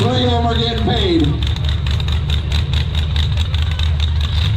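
A V8 race car engine at a county fair demolition-style feature rumbles steadily and loudly throughout, a low heavy drone with a brief rising rev near the start, while people talk over it.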